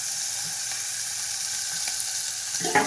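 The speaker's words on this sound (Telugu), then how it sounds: "ఫస్ట్ బఠానీ యాడ్ చేసుకుందాం, మరియు క్యారెట్ కూడా, క్యాప్సికమ్. ఇవి మూడు ఒకటేసారి వేసేసుకొని కలుపుకుందాం." Peas, carrot and capsicum stir-fried together in a pan for semiya noodles give a steady close sizzle throughout, with a few soft scrapes and a louder clatter of stirring near the end; no voices.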